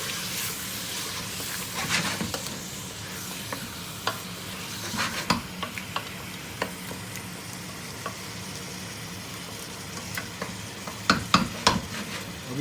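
Mutton and zucchini in masala fry over a high flame, a steady close sizzle broken by scraping stir strokes and occasional sharp clicks of a spoon against the pot.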